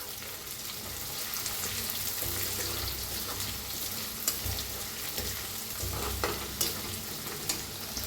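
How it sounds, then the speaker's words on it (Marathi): Plenty of curry leaves roast in a pan for Maharashtrian pithla, a soft continuous sizzle with occasional stirring clicks and small pops, fairly faint throughout. "कढीपत्ता जरा बक्कळच वापरलाय, चांगला असते खाल्ल्याला। चांगलं भाजून घ्यायचं।"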